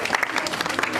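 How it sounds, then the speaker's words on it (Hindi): Students seated outdoors during a school soap-making practical clap together, a short burst of steady, close applause. "तालियां प्लीज"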